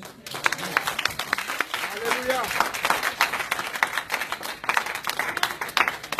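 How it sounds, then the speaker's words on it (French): A church congregation at a sermon claps and applauds in a loose, uneven burst, with a voice calling out over the clapping partway through. "Vous pouvez applaudir pour ce Dieu-là."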